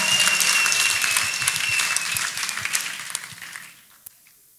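Congregation at a church healing service clapping for Master Jesus, a dense burst of applause that thins out and fades to near silence by the end.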